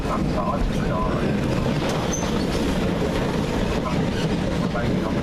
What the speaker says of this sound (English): We're just now pulling into Nottingham.